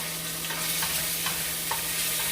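Chicken being stirred and mixed in a hot pan, with a continuous sizzle overlaid by scraping, shuffling stirring strokes, close and steady with no one speaking.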